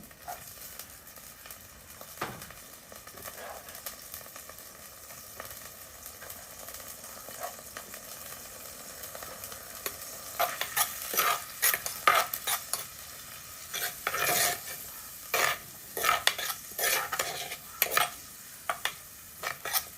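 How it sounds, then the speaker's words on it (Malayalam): Shallots frying in coconut oil, a quiet sizzle that builds into a busier stretch of scraping and stirring in the pan, close by. "ശേഷം ഞാൻ ചെറിയ ഉള്ളിയാണ് ചേർത്ത് കൊടുക്കുന്നത്."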